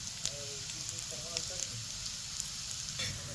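Spiced cucumber vadi pieces shallow-frying in a little oil in a pan, a steady close sizzle with faint crackles throughout, no voices over it.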